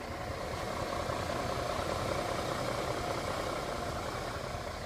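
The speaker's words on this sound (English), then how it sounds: "you will hear that slight Vanos tick, which is just the gears having play in them at low RPM" A 2000 BMW M5 engine idling at about 479 RPM, giving a steady low rumble with a faint Vanos tick from gear play at low revs. The sound is continuous and even, recorded close to the running car.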